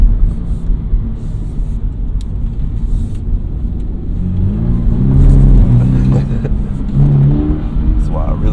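A Toyota GR86 engine pulls hard under acceleration on a drive, a steady loud rumble with rising revs toward the end while someone talks over it.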